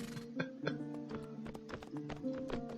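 Horse hooves clip-clop steadily in the Mount & Blade: With Fire and Sword video game, a fast, even rhythm of fairly close hoof strikes over a constant background hum.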